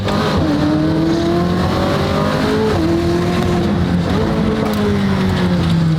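A race car in a racing video game revs hard, a loud, sustained engine howl that climbs through the gears with distinct shifts and stays up front and unbroken.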